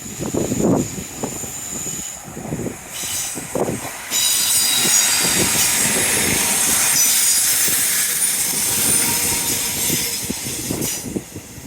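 A train rolling past a seawall on a grey, drizzly day, a sustained loud rumbling and hissing rush of wheels on rails with metallic squeal, rising midway and continuing to the end over gusty wind.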